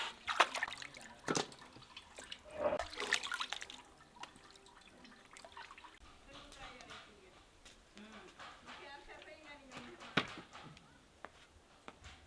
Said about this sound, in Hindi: अब इसे अच्छे से धो लेंगे खुले पानी से।